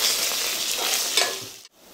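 Mushroom masala fries in a pan, a steady bright sizzle with a few stirring scrapes that cuts off abruptly near the end.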